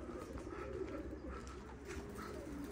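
Zubayri pigeons cooing softly outdoors, low repeated coos over a steady background hum, faint and continuous without talking.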